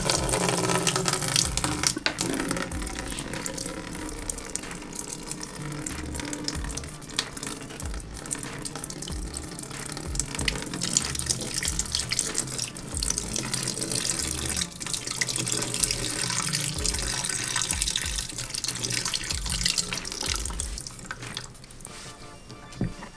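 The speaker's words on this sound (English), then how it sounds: "Here all I have to do is release the plug and the water will flow out." Water draining out of a tank after its plug is released, a steady trickling and gushing flow with scattered drips, continuous and fairly close, no voices.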